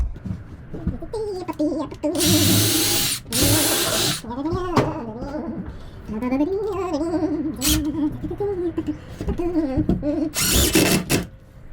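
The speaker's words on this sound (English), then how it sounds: "I can drill right from here through, and that's nice and easy." A power drill whirs through wood in short bursts, starting and stopping several times, while someone talks in between and over it close to the microphone.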